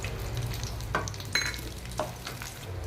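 Dried figs frying in ghee in a pan, a steady close sizzle with a few soft stirring scrapes and clinks over the hiss, no talking.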